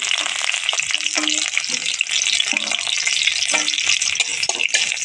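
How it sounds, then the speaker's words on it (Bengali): Dry chilli and chopped garlic frying in hot mustard oil for a village-style leafy greens tempering, a loud steady sizzle close up with occasional stirring scrapes. "দিয়ে দেবো ফোড়নের জন্য সর্ষের তেল তেলটা গরম হয়ে গেছে দিয়ে দেবো শুকনো লঙ্কা কুচি করা রসুন কুচি"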